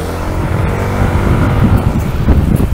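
Yamaha NMAX 155 scooter-style motorcycle riding along a road, a steady, loud engine drone mixed with rumbling wind buffeting that stays constant and close throughout, with no voices.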